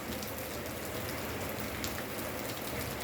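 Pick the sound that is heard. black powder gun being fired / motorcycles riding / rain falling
rain falling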